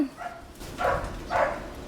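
A dog barks in a neighborhood dispute setting, with three short barks spaced about half a second apart, moderately close and with no talk over them.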